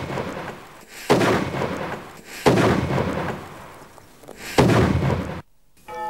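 Three heavy cannon booms of artillery fire ring out at roughly one-and-a-half-second intervals, each a loud, broad blast with a rolling decay, then sudden silence.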